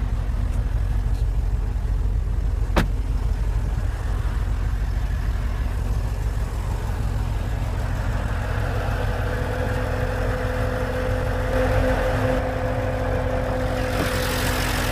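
A 2015 Porsche Panamera GTS with a 4.8-liter naturally aspirated V8 runs at a steady idle, a continuous low, close engine drone with a sharp brief click early on and a rising whine near the end, no voices.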